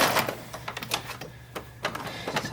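A sewing machine stitching fabric for an 1860s-style child's underwear piece gives a close, quick run of rapid mechanical clatter and ticks, with no voices.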